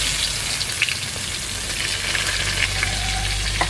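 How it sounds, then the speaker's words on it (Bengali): Chopped onions frying in oil with bay leaf, dry red chilli and cumin tempering, a loud, dense sizzle close by with a few faint clicks, steady and alone. "পেঁয়াজগুলো একটু ব্রাউন করে ভেজে নেব"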